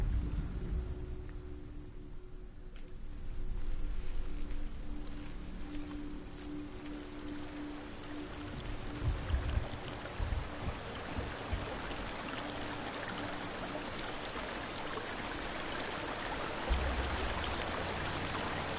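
A waterfall in Hellblade: Senua's Sacrifice rushes continuously, a broad steady roar that swells slightly at moments, with a low rumble beneath and no speech throughout.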